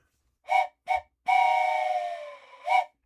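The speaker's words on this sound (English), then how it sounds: "Where's my whistle? Yeah, I've got my whistle down here." A train whistle sounds close and loud in four blasts: two short toots, one long held tone that slowly sags in pitch, then a final short toot.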